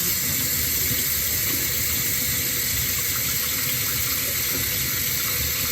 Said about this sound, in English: So I'll turn my water on hot and I'll just rinse right over those spots.